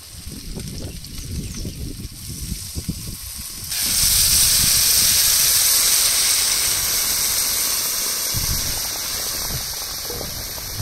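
Coconut milk mixed with Amul milk poured into a hot pan of cooking prawn malai curry: a few soft clattering stirs give way to a sudden, loud, steady sizzling hiss that slowly eases.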